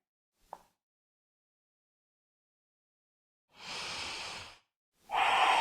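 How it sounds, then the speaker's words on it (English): Two slow, audible breaths in the Ujjayi style during a home yoga practice in a supine twist, each a soft, ocean-like rush lasting about a second, close and quiet against near silence. "Come back to the Ujjayi breath."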